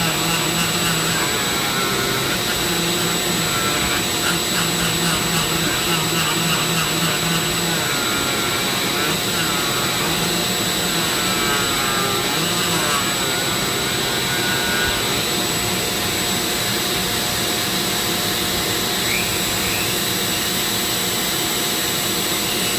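A Dremel rotary tool spinning at about 25,000 RPM carves a wooden pumpkin, giving a continuous loud, close high-pitched whine with a faint grinding texture as the bit bites into the wood.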